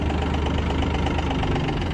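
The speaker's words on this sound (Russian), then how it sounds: "насколько тракторочек резво реагирует на педаль и с удовольствием перемещает нас по нашему, скажем так, испытательному полигону" Yanmar AF22 Japanese mini tractor with its small diesel engine running, a steady, close, loud knocking chug with a fast even rhythm throughout, no voices.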